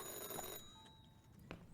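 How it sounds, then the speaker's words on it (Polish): A telephone rings in Chocolate Factory Simulator with a bright, tonal ring. It is loudest at the start, then fades into quieter tones with a brief blip near the end. It is faint overall and no one talks. "Dzwoni nam gdzieś telefon."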